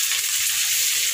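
Onion hits potatoes already frying in oil, making a dense, loud, unbroken sizzle close up with no voices over it.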